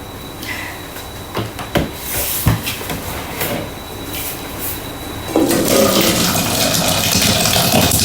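Water sloshing and splashing close by into a Thermomix mixing bowl amid clattering handling noises, then a louder continuous rush of pouring water.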